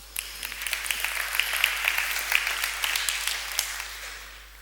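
A round of applause from a music class audience, steady crisp clapping that builds slightly and then fades, fairly quiet and with no voices over it.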